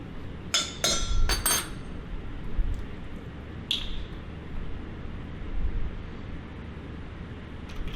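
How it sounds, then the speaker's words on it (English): Fork mixing lemon and pepper seasoning in a bowl, a quick cluster of sharp metal-on-glass clinks followed by a single lighter tap, then a quiet room with no talk. "I'm just going to grab a fork just to mix that up"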